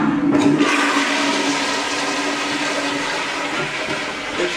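A Briggs toilet flushes in a hotel bathroom at the Hilton Downtown San Jose, a close, loud rushing roar of water that holds steady throughout.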